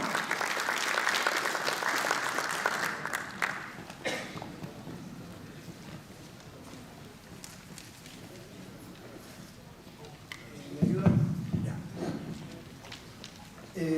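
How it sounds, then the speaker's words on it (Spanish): Hall audience at an international congress on sikuri panpipe music claps in a dense burst for a few seconds, then it fades into murmuring, shuffling and a few scattered claps, with a brief louder stir near the end. "Un aplauso para él."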